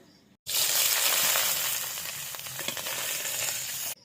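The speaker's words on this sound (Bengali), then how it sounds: "ফ্রাইড রাইসে সবজি ভাজার জন্য দিয়ে দিচ্ছি এখানে রিজুর সাদা তেল" After a brief quiet moment, a loud burst of sizzling erupts as vegetables for fried rice hit hot white oil, frying steadily and close until cutting off.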